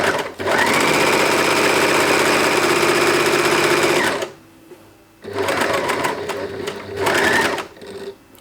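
A serger overlock machine runs at speed while stitching skater skirt fabric, giving a loud, rapid mechanical whir in two long runs with a brief pause and softer handling noise between.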